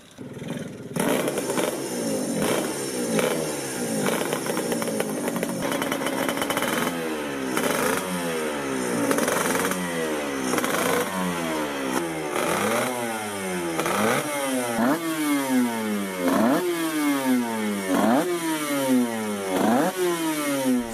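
A Grand Prix racing motorcycle engine revs over and over, each throttle blip rising in pitch and dropping back, loud and close, with quick repeated bursts toward the end.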